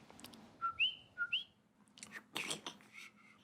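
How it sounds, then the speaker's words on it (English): Two short rising whistles, then a scrappy, breathy whistle attempt with some noisy sputtering, fairly quiet with no talking. "I tried to whistle."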